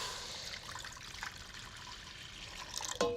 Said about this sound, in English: you're going to add in your water